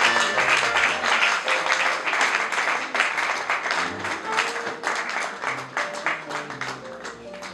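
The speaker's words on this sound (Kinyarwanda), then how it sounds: "twese dukomere Imana amashyi menshi" A congregation at a church gathering supporting orphans and widows claps loudly and continuously, dense rapid hand claps filling the room, with faint tones of music underneath and gradually easing toward the end.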